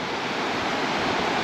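Sea waves surging onto Kata beach in Phuket, Thailand, a steady, loud, close wash of surf filling the whole moment with no voices over it.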